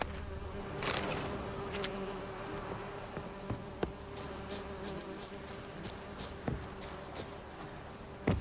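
Bees buzzing in The Witcher 3 video game form a steady droning hum under scattered game clicks and taps, close and continuous throughout.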